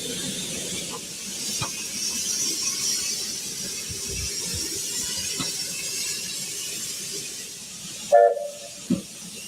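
SAR narrow gauge steam train, an NG15 or big Garratt NGG16, rolling steadily along rails in Wales, a continuous hiss and rumble with a couple of brief sharp clanks near the end.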